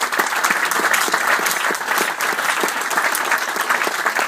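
Sustained applause from a seminar audience, a dense, steady wash of many hands clapping at close range for several seconds with no talk.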